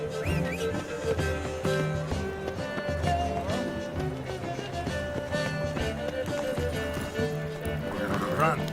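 Roach the horse gallops in The Witcher 3, rhythmic hoofbeats drumming steadily beneath game music and ambience, with talk over it.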